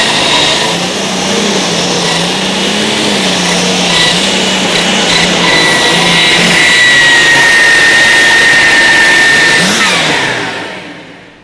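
A loud Light Super Stock pulling tractor engine at an outlaw tractor pull roars steadily at high revs with a whining, screaming tone, holding for several seconds before fading out at the end.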